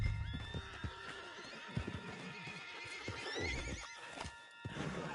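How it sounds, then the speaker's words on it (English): A horse neighs and whinnies while hooves clip-clop in Red Dead Redemption 2, the hoofbeats tapping in an irregular rhythm beneath a bright, close whinny. "put Strauss on the back of John's horse"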